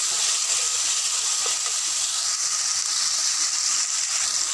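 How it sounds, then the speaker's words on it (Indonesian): Tomatoes frying in a pan after garlic and ginger paste, a loud, steady hiss and sizzle that carries unbroken throughout with no pauses. "Sekarang saya nak masukkan tomato . Okey, kita kacau tomato ni sampai dia masak jadi pes"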